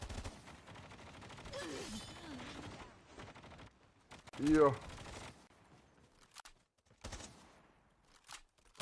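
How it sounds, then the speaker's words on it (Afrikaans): Gunfire in a competitive video game scrim comes in scattered bursts and single sharp cracks between stretches of quiet, while someone commentates over parts of it. "Skote wat nou geskiet word daar."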